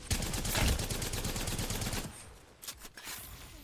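Rapid automatic gunfire in Apex Legends, a dense burst of loud shots for about two seconds, then a few scattered fainter shots.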